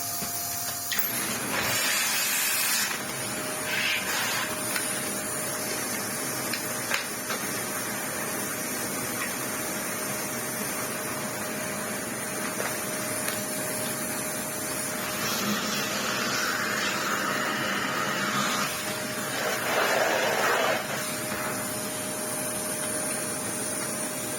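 A Dyson vacuum cleaner runs continuously with a loud, steady whooshing roar and a thin high whine while its hose and wand are checked for a blockage, the pitch shifting slightly as it is moved about.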